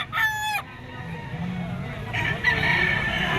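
A white-legged Boston stag rooster in Lipa, Batangas lets out a loud nearby crow at the start, with a second crow or clucking call near the end over a murmuring background.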